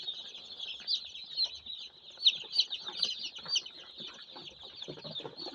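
Newborn chicks handled one by one for sexing peep in high, shrill, rapid bursts close by, while soft handling rustles sit underneath.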